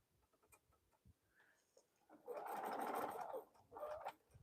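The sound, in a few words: sewing machine stitching a bowl cozy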